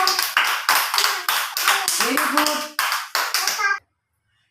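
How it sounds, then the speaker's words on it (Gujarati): A group of children clap together at a preschool play center, bursts of hand claps in quick rhythmic runs lasting a few seconds, close and fairly loud, with an adult voice speaking over them before stopping abruptly. "માહિરભાઈ માટે એક તાળી પાડી દે બધા બાળકો"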